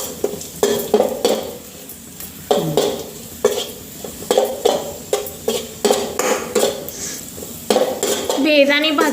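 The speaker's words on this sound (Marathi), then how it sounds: "पाहू शकता बेदाणे भाजत आहेत आणि फुगतही आहेत." Raisins roasting in a metal pan for karanji filling, stirred with a spoon in repeated sharp scrapes and clinks against the pan, with a soft sizzle underneath, close and fairly loud.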